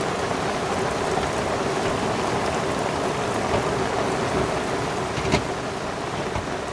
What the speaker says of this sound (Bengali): প্রচুর বৃষ্টি হচ্ছে এবং আমরা এটাকে খুব ভালোভাবেই এনজয় করতেছি